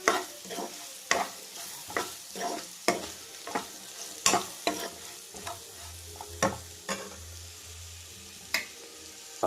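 Ivy gourd (dondakaya) fry with spice powder is mixed in a pan, with sharp, regular spatula scrapes and taps over a low, steady sizzle.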